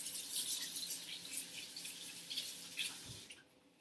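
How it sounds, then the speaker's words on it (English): Tap running while hands are washed at a kitchen sink during food prep, a soft steady splashing stream that cuts off near the end, no talking. "Let's wash our hands."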